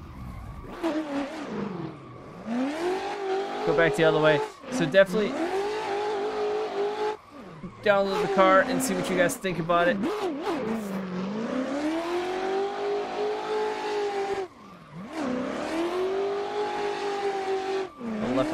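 Pro M4 drift car in a racing video game, engine revving hard with repeated tire squeals and skids through long slides, loud and continuous with brief lulls between runs, a voice talking faintly at moments.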